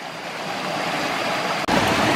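A forest river branch rushes continuously, broadband and fairly loud, like steady flowing water heard up close at a jungle camp, with a brief dip near the end.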